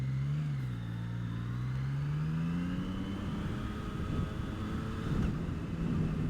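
A Yamaha MT-09 motorcycle accelerates steadily on the road, its engine note rising and dropping briefly as the quick shifter changes gears, then climbing again, loud and continuous with wind noise.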